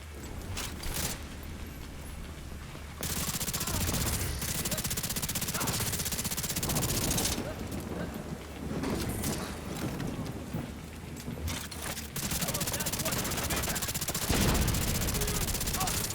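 Sustained automatic gunfire from The Division 2 rattles in long continuous bursts, with game effects and a voice mixed in throughout.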